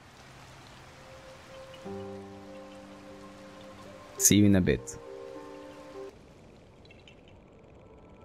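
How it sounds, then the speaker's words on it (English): Steady rain falls throughout a scene in Zelda: Tears of the Kingdom, a soft continuous hiss under a brief spoken line and some game music tones. "And the rain should end soon."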